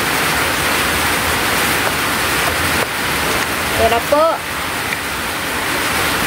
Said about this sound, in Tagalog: Yung malakas po na ulan.